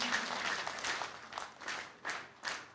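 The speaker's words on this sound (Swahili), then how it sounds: "Tumpige makofi 1, 2." Applause from a crowd at a bursary cheque issuance event in Kisii County, Kenya, with scattered rhythmic bursts of clapping coming in waves and fading between them.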